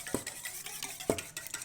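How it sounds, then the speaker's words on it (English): A whisk or utensil strikes the side of a bowl twice while mixing a milk mixture for a taco bake, with light swishing between the clicks, close and quiet. "I'm gonna whisk this all up first."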